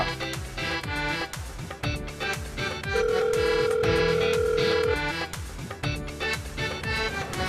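A phone call rings out unanswered over a busy musical backing, with a repeating electronic tone that pulses through the middle.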